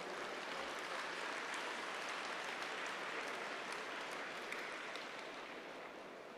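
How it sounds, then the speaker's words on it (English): Sustained applause from a large audience fills a formal welcome reception after a soprano's performance, steady and dense throughout with no talking, tapering slightly at the end. "Please give her another round of applause"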